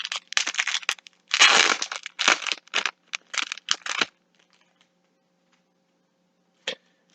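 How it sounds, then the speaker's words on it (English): Bluetooth adapter being pulled from its plastic packaging, with bursts of close crinkling and crunching over about four seconds, then quiet apart from one brief rustle near the end. "Okay, we're going to take it out of the packaging."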